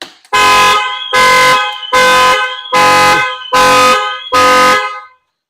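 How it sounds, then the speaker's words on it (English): Alarm horns of a Lexus RX blaring in six loud, evenly spaced honks of about half a second each, close and dominant, then cutting to silence. "the horns are very loud"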